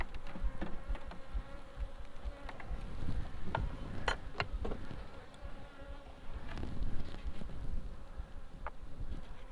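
A dense, steady hum of many bees buzzing close around an open hive, with occasional clicks and knocks of beekeeping equipment mixed in.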